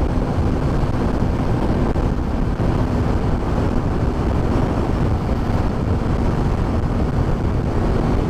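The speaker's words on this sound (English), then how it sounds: "It's so fucking windy." Strong wind buffeting a sportbike rider's helmet at speed on the Autobahn, a steady, loud, dense roar with no breaks, close to the microphone and alone without talk.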